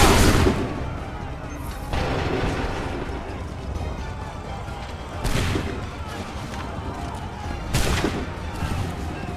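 Musket volleys in Assassin's Creed III Remastered roar out in four heavy bursts spaced several seconds apart. Rumbling battle noise fills the gaps between them.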